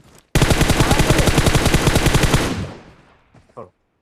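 Automatic gunfire from the video game PUBG Mobile, a loud rapid burst of evenly spaced shots lasting about two seconds, then tailing off, with a short faint sound after.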